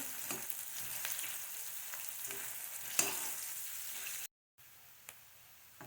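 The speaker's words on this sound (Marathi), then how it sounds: "कांदा लालसर होईपर्यंत भाजून घ्यायचा एक दोन मिनिट मिडियम फ्लेमवरती" Onions frying in oil over a medium flame for a banana flower vegetable dish, a steady close sizzle with occasional stirring clicks, briefly cutting out near the end.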